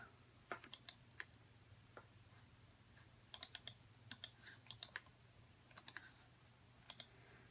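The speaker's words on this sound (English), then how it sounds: "sorry for the clicking" Sharp plastic clicks from a Rainbow Loom hook working rubber bands, arriving in scattered bursts of two to four quick taps over a faint steady hum, close and fairly quiet.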